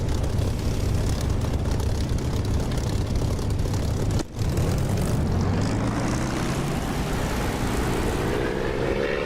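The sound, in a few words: aircraft engine on takeoff roll in DCS flight simulator video game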